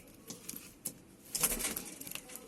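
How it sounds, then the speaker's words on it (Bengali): Young Indian ringneck parakeet chicks, grown large and nearly ready for hand-feeding, give a few short scattered calls. The calls are faint and spaced apart, with a small cluster of louder cries midway and no talking. "ইন্ডিয়ান রিংনেকের বাচ্চাগুলো এখন অনেক বড় হয়েছে।"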